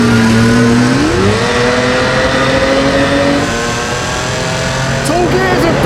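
A Mercedes S-Class V12 revs loudly and climbs through the gears in a sustained rising drone, heard near with voices over it.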